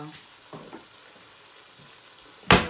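Oil frying for a lasagne sauce gives off a faint, soft sizzle with small crackles, then one sharp, loud hiss near the end as something hits the hot pan.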